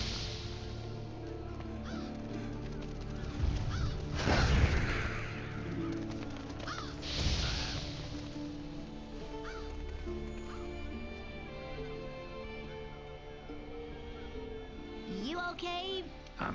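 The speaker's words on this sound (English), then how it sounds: "Seems the black birds are the culprits. Revoltures. They're scavenger birds that enjoy large monsters' leftovers." Revoltures, black scavenger birds in a video game, give a couple of loud raspy caws that stand out over steady game music and ambience.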